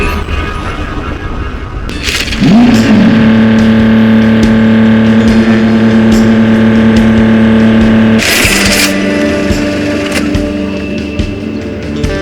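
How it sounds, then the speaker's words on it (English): A car engine in the video game Heading Out starts with a loud crank, then settles into a steady, droning whine for several seconds before a burst of noise, with continuous loud engine texture throughout and no talking. "You smile and start the engine."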